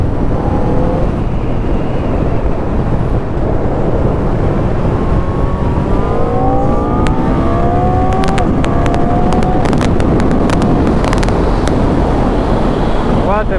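BMW K1300 R motorcycle ridden on the road, heavy wind rush over steady engine drone with rising gear pulls as it accelerates, loud and continuous throughout.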